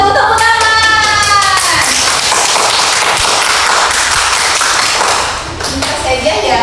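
Pupils in an Indonesian-language classroom clap their hands together, a dense, loud burst of many overlapping claps sustained for several seconds before thinning out near the end, with children's voices mixed in.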